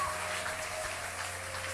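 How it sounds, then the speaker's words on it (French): Church congregation applauding loudly and steadily after a Bible reading, a dense, continuous wash of clapping at even level throughout, with a low hum underneath. "Acclamez alors très fort pour la parole de Dieu"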